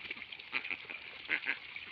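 Ducks feeding at a small backyard duck farm give off a few short, nasal quacks that rise above a soft, steady background, two of them louder and closer near the end.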